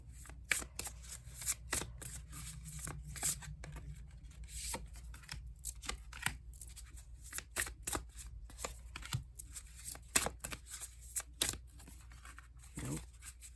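Tarot or oracle cards are shuffled and cut repeatedly by hand, giving a long run of crisp riffling and slapping bursts close to the recorder over a low steady hum, with no talking.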